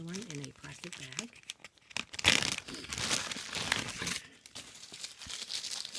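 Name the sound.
unwrapping a peg doll from a crinkling plastic bag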